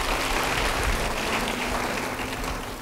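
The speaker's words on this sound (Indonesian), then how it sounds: "Beri tepuk tangan bagi dia." A church congregation applauds together, dense steady clapping that holds evenly for a few seconds and then eases slightly.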